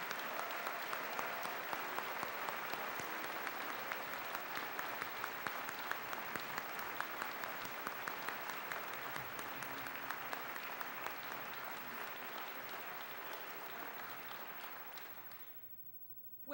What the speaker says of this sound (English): a big round of applause for their wonderful contributions